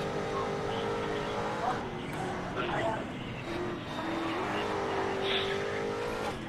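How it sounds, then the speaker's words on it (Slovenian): A Shelby race car driven in the racing video game GRID, its engine roaring steadily and loudly throughout with repeated tire squeals and skids. "Tale avto noče niti malo riti vendat, veš? Tale Shelby."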